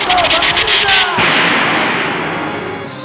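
A Pokémon Stadium Explosion attack goes off in a loud, sudden blast that swells into a long roaring rumble and slowly fades over a few seconds.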